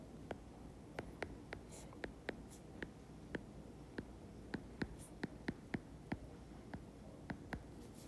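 Pen writing out a math solution on paper, close and soft, with scratchy strokes broken by a regular series of sharp little taps.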